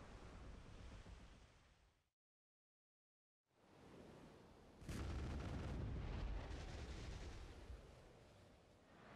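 A cannon fires in a croc-hunting game: one heavy boom that rolls into a long, loud rumbling wash, following a brief dead silence and a rushing ambient roar.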